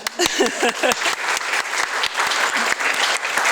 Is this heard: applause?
yes